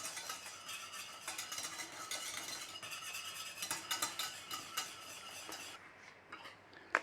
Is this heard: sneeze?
no